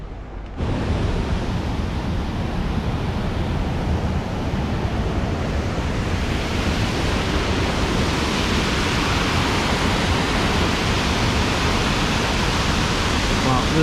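Loud rushing water at an Ohio and Erie Canal lock, a continuous broadband roar that starts abruptly and holds steady and close for the whole span, with no breaks.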